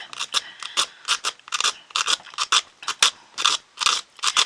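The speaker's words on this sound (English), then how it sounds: "That's why I use the 40 grit, is because it sands it pretty quick and it does it pretty smooth." Coarse 40 grit sandpaper rasps against a wooden wagon wheel in quick, regular back-and-forth strokes, close and crisp, each stroke a short gritty scrape.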